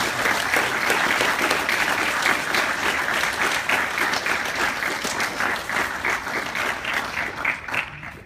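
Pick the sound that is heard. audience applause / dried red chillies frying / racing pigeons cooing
audience applause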